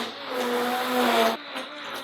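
Stick blender whirs through pink-colored soap batter in a short, steady high whine that cuts off abruptly, followed by brief quieter stirring sounds.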